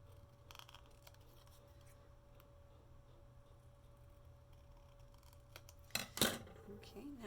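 Scissors trim paper for a journal with a few quick, crisp snips near the end, set against a quiet room hum.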